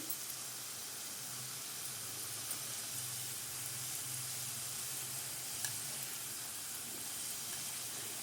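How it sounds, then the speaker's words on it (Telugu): Dry fruit kajjikayalu deep-frying in oil over a medium flame, giving a soft, steady bubbling sizzle that continues evenly throughout at moderate distance. "మీడియం ఫ్లేమ్లో పెట్టుకుని మనం ఫ్రై చేసుకుంటే ఏంటంటే నీట్గా ఫ్రై అయిపోతాయి"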